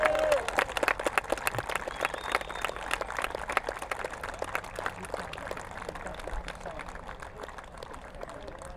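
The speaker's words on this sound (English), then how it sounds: "Give him a great cheer, an absolute exhibition of racing." A crowd at the Herts BRCA Nationals 2024 radio-controlled 2wd car race applauds the winner of the A final with dense, steady clapping and some cheering, moderately distant and continuous, while voices carry over it.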